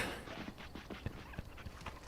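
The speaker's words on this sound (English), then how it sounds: "This dog's great." Dog in the video game Dragon Age: Origins panting and softly whimpering, a run of short breathy puffs at moderate level with no talk over it.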